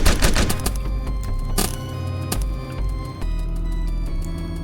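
Rapid gunfire in Rogues Gallery: Vintage Year, shooting at shielded enemies, with a dense burst of sharp shots up front then scattered single cracks over a steady game background, loud and without talk.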